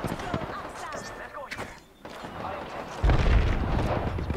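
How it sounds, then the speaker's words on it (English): A heavy grenade blast in the Apex Legends video game, landing as a deep boom in the second half amid busy combat noise, with players talking over the action. "I hit him with a grenade"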